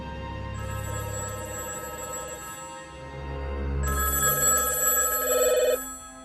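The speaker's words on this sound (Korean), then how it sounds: "곧바로 의사에게 전화해보지만" A telephone rings as someone calls a doctor, electronic ringing tones in two bursts with a short gap between them, fairly clear and alone, with no voices.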